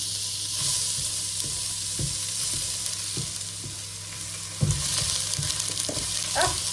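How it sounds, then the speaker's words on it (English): Sliced onions hit hot avocado oil in a pan and sizzle with a steady, close frying hiss, broken by a few soft knocks and stirring clicks, with no voices. "once it is heated up, we're going to add sliced onions"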